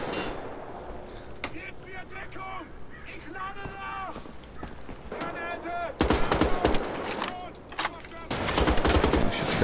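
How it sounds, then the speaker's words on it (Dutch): Gunfire in the Wolfenstein shooter game, with scattered shots early on and loud bursts of rapid fire toward the end, mixed with game effects and someone talking over it. "Ik ga eerst al die mannetjes hier aan knallen."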